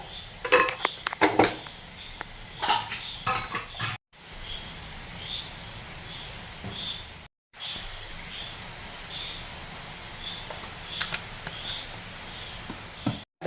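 Tempering for beetroot khichdi in a pan: a few metallic clinks and scrapes of utensils, then a steady, close sizzling hiss that continues through short breaks, with no speech.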